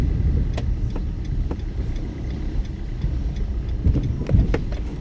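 A car drives through city traffic during a driving practice session, a low continuous road and engine rumble with occasional faint ticking, like an indicator, and small bumps.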